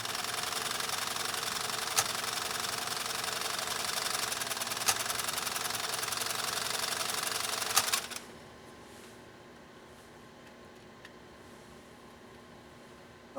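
A PFAFF 332 sewing machine stitching leather runs steadily with a fast, even mechanical clatter and faint periodic clicks, then stops abruptly after about eight seconds, leaving a low background hum and a few small taps.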